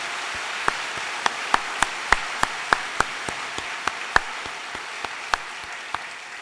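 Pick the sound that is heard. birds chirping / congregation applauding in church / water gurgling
congregation applauding in church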